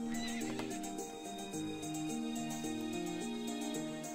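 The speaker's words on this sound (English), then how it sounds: "I wonder if Neil got off that horse yet" A horse in the video game To the Moon gives a long whinny with clip-clop hoofbeats over a steady game music track, loud and close with no talk.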